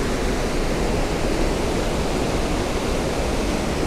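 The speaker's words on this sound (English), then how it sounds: "I'm assuming this is them just getting rid of the water before they start bringing them down again" Water rushes out of the canal locks at Fort Augustus by Loch Ness, a loud, unbroken roaring wash that holds steady throughout with no voices.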